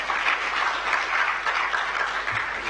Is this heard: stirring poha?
no